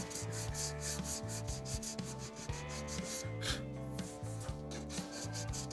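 Hand sanding with 120 grit sandpaper wrapped on a sanding form, working angles and curves: steady back-and-forth rasping strokes in an even rhythm, close and clear, with no talking.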